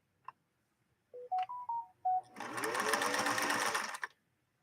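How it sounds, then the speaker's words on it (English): A Viking 21E sewing machine runs a stitch pattern in one steady burst of rapid mechanical whirring, preceded by several short electronic beeps as the setting is chosen. "We'll sew the same pattern we just sewed, which is HL"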